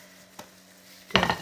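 A spoon mixes salad in a bowl, with cheese, potato, chicken meat, and eggs tossed together: one short clink, a quiet pause, then a brief burst of close scraping and stirring at the end.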